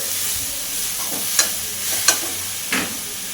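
Coconut, jaggery and ginger stirred in a hot pan, giving a soft continuous sizzle with three distinct scraping clinks of the spoon against the pan, close and clear, with no talking.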